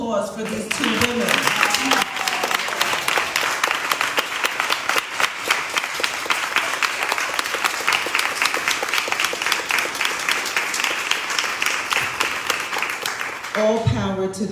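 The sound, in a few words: audience applause at Juneteenth program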